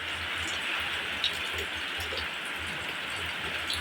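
Steady rain pouring down during a strong, windy downpour, a dense broadband hiss with low rumbling underneath, continuous and close throughout with no talking.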